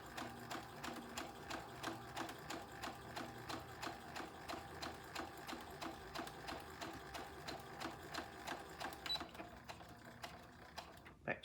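Sewing machine stitching a cow head appliqué quilt, running in a steady rapid rhythm of needle strokes for most of the stretch, then slowing and stopping near the end; close and fairly quiet, with no talk.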